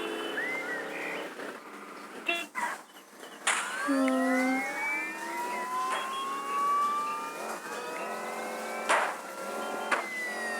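A car drives in the video game Dude Theft Wars, its engine tone gliding up and down with gear changes under a siren-like wail, with clicks and bumps along the way and brief game sounds mixed in.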